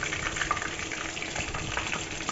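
Chicken pakora frying in a pan of hot oil, a steady close crackling sizzle with small pops throughout.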